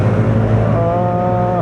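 A KYMCO Many 120cc scooter at full throttle, its small engine giving a steady, close buzzing drone that climbs slightly in pitch as it accelerates, with no voices over it.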